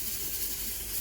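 Dried red chillies and whole spices hit hot oil for tempering, giving a steady, close hiss of sizzling that holds evenly throughout.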